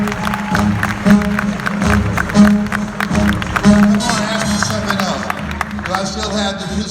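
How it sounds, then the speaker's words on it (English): A large crowd at a live motivational talk in Dubai claps and cheers continuously, a steady wash of applause with voices mixed in throughout. "Give your dreams a round of applause."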